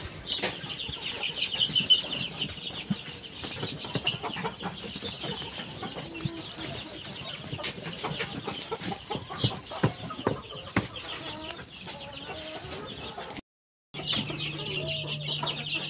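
Young chicks in an enlarged poultry brooder with rice husk litter cluck and cheep continuously at a moderate distance, with a sharp break near the end before the chorus resumes.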